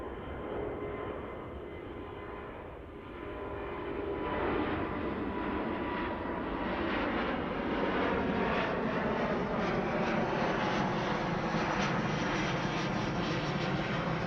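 An airliner takes off from Heathrow's runway 09 right in the evening, its jet engines building into a loud, steady roar that swells after a few seconds and holds with a broad rumbling texture.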